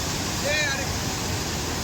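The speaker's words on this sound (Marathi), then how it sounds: "या पा धरणामधून पाण्याचा विसर्ग खूप मोठ्या प्रमाणात होत आहे" Water from the Yeldari dam discharge near Jintur, Parbhani rushes in a steady, loud, unbroken roar, with faint speech passing briefly over it.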